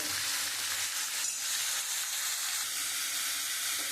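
Vegetables sizzle steadily in a pan after onions have been browned, a constant broadband frying hiss with little variation and no talk, for an elephant-foot yam and prawn curry.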